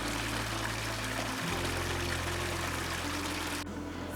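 Steady splash of water pouring from a replica Spanish fountain in St. Augustine, Florida, a constant hissing stream outdoors with a low hum underneath, fairly soft and unbroken.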